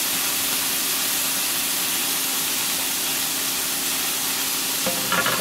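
Kardi bhaji greens frying in a hot pan or tawa, a steady broadband sizzle running throughout with a few scraping stir strokes near the end, no one talking.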